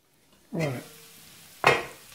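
Onions cooking in a pot for biryani: two short, close scraping and clattering bursts, separated by a faint, quiet hiss in a calm kitchen.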